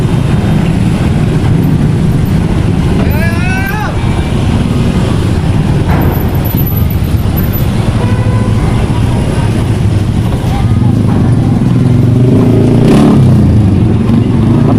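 Honda and Yamaha motorcycles queueing at a ferry door, engines idling and revving loudly in a dense, continuous rumble, with voices talking in the background.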